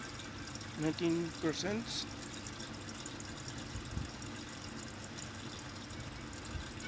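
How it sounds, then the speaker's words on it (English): Water runs and pours into an Urban Cultivator indoor growing appliance, a steady liquid rush throughout, with a person speaking over it near the start. "For the Urban Cultivator, adding the water"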